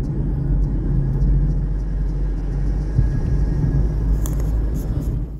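Inside a Mitsubishi ASX 1.8 with a CVT gearbox on the move, a steady low rumbling road and engine drone fills the cabin, with light rattles near the end.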